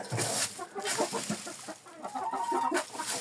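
Hens cluck and murmur in a steady, busy chorus at close range inside a coop in winter, with scattered short calls overlapping and no talking.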